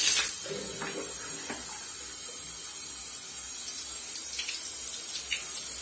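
Water runs through a leaking spiral shower hose, a steady soft hiss and spray with small splashes, fairly quiet and close, with no one speaking.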